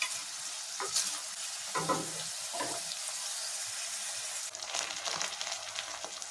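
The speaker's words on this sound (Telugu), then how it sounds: "స్టవ్ మీడియం ఫ్లేమ్లో పెట్టుకుని ఒక 10 నిమిషాలు వేయించుకుంటే ఉల్లిపాయలు బాగా వేగిపోతాయి" Onions fry in a covered pan over a medium flame, a close, steady sizzle with several short bursts of stirring and clatter, and no talking.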